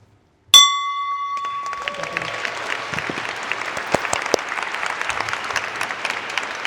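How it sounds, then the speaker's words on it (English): A bell at the close of a Rotary District 7950 governor installation meeting rings once, a bright ringing strike that quickly gives way to loud, sustained applause from the gathered crowd. "you'll do so by ringing the district bell"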